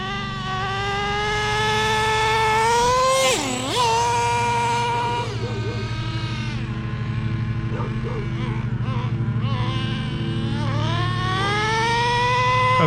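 A Traxxas T-Maxx 3.3 nitro RC truck engine runs while warming up on a street, a high buzzing whine whose pitch swoops up and down with throttle blips and then settles into a steady drone.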